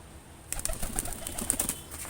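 High-flying pigeons in Nabadwip flap their wings in quick bursts, soft fluttery beats close by after a quiet start, with faint chirpy bird calls mixed in and no speech.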